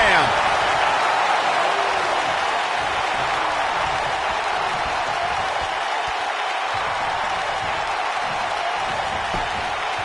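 Video game wrestling arena crowd from WWE 2K19, a steady loud roar of cheering and applause filling the whole stretch, with a commentator talking over it.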